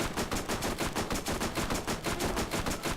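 Rapid automatic gunfire from a weapon in the Borderlands video game, fired in a steady fast stream of loud shots across the whole stretch, aimed at a creature's weak-spot eye during a final boss fight.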